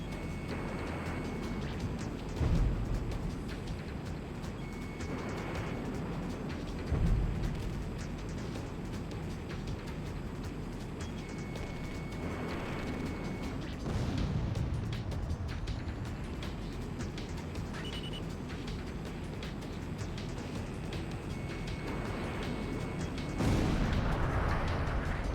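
Explosions blasting ground targets in the Ace Combat X flight game, a series of dull booms recurring every few seconds over a steady engine-like drone, with no talk.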